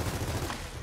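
Gunfire from a weapon in Gears of War 4, a dense burst of shots with a low rumbling boom, loud and continuous through the short moment.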